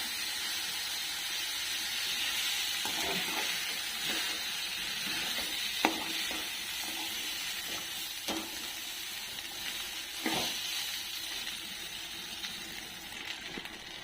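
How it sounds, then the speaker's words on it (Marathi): Washed rice being sautéed in masala in a pan for masala bhat, a steady close sizzle and hiss with occasional soft scrapes and taps of stirring, no voices. "चांगलं परतून घ्यायचं आता आपल्याला तांदूळ त्याच्या मसाल्यात"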